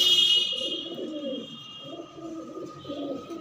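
Punjabi pigeons at a pigeon shop give soft, low rolling coos that rise and fall in repeated phrases, with a steady high whine running in the background throughout.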